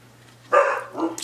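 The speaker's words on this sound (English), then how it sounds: "I apologize for the dogs." Dogs barking indoors, two quick close barks in succession breaking a quiet room with a faint steady hum underneath.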